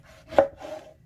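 A knife cuts meat for jumulleok, a Korean marinated meat dish, giving a single close, sharp chop against a board with a brief scrape after it.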